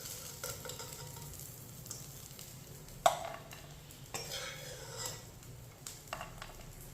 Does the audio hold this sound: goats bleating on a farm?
no